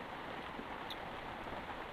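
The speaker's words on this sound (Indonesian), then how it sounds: "Di luar masih hujan teman-teman." Rain falls steadily outside a simple garden hut, a soft, even wash of continuous patter at a low level, with no talk.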